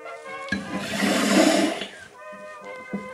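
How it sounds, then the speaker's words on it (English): A CO2 canister releases its gas into a carbonation bottle, giving a sudden loud hiss that swells for about a second and a half and then fades out, with faint background music throughout. "grab yourself a CO2 canister, put that in, into the back it goes, screw it on, release all that gas"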